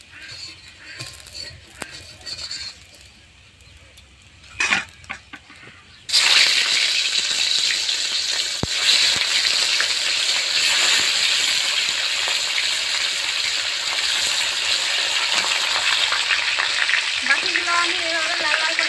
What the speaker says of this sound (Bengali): বাকিগুলো আমি এভাবে লাল লাল করে ভেজে নেব।